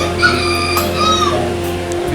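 A Japanese imperial long-tailed chicken, a rooster, crows and clucks close by amid a busy poultry yard, with a constant low hum and other bird calls underneath.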